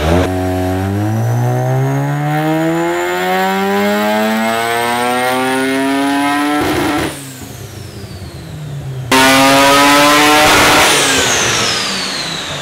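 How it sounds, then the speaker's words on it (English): A built, boosted Mazda RX7 rotary engine revs hard on a dyno, rising steadily in pitch for several seconds, dropping briefly, then surging back loud and high. "So we did a couple back-to-back pulls to increase the wastegate duty cycle to bring the boost up."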